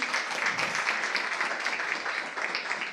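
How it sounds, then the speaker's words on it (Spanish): A church congregation applauds, a steady broadband wash of clapping that holds evenly for the whole stretch without pause, fairly full and close. "Dele un aplauso de victoria al Señor"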